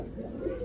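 Pigeons such as kaldom, chila, gorra and giribaz breeds coo at a seller's in South Keraniganj, Dhaka, giving one brief, soft, low throaty coo close by.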